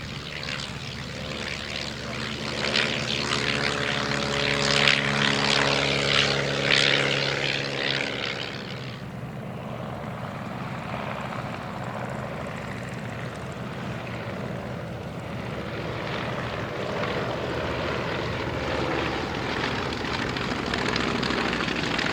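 A Polikarpov biplane's radial engine clatters past at an evening air display, a loud propeller drone with harmonic throb that drops away abruptly, then a fainter steady engine rumble continues in the distance.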